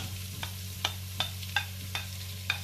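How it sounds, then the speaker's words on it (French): Onions sauté in a Cookeo multicooker with a soft, constant sizzle, while a utensil scrapes and stirs in regular strokes about every half second; fairly quiet and close. "je vais commencer par faire revenir les oignons"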